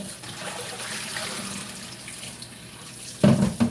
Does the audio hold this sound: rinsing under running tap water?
yes